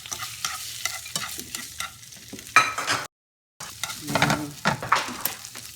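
Jasmine shrimp fried rice sizzles and is stirred in a hot pan, a loud, close crackle with repeated scraping strokes of a utensil and a short silent break midway.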